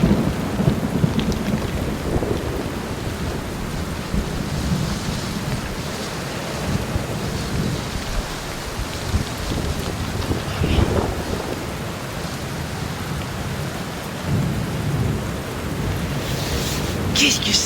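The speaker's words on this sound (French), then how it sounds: "En pleine nuit, l'orage me réveille." Night thunderstorm over a tent pitched high in the Alps: heavy rain drums steadily on the fabric while thunder rumbles low and rolls in swells, loud and close throughout.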